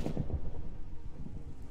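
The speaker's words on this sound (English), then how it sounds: "ooh, it's thundering" A low, faint rumble of thunder in Minecraft 1.18, a soft rolling boom fading over under two seconds against a quiet background.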